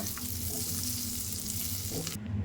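Butter melts in a pan for a no-oven banana cake, giving a close, steady sizzle that continues evenly and then drops off abruptly near the end.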